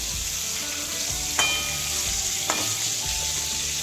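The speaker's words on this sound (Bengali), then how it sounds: "বন্ধুরা লবণ দিয়ে ফুলকপিগুলো লাল লাল করে ভেজে নিচ্ছি" Salted cauliflower pieces frying in oil in a pan, a steady close hiss and sizzle with two distinct clinks of a utensil against the pan, no voices.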